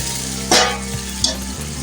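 Green chilies and spices frying in oil for beef yakhni pulao, a steady low sizzle with a sudden louder hiss burst and a couple of brief stirring clinks, no talking.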